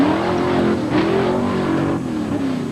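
Monster truck engines race on a two-lane obstacle course, Darnell Kutzer's Nellie's Heap against Doug Steichen's Airtime, at a 1994 Firestone off-road rally, with loud, steady engine drone and wavering pitch.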